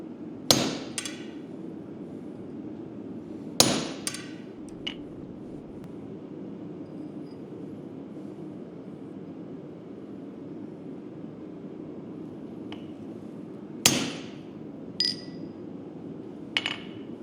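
Hammer strikes on a slot punch being driven through hot steel at a blacksmith's anvil: loud ringing blows come in small groups separated by long pauses, over a steady low roar from the forge.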